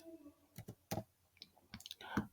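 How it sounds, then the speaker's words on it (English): Fast clicking keystrokes on a computer keyboard while entering Python code, coming in short irregular bursts of taps at close range. "So I'm typing this one on Python right now."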